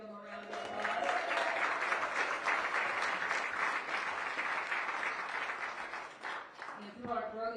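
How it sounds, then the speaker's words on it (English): Audience at a Los Angeles World Cup 2026 watch party applauds community champions with a full, steady round of clapping lasting several seconds, with a speaker's voice just before and after. "Can we give them a round of applause?"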